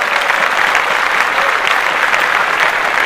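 Steady, dense applause from a podcast audience fills the whole stretch, loud and close with no break in the clapping.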